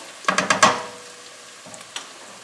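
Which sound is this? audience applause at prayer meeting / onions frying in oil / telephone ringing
onions frying in oil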